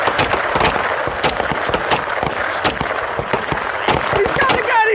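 Rapid gunfire crackles during a police shootout in Indianapolis, many sharp cracks in quick, uneven bursts over dense background noise, with shouting voices mixed in.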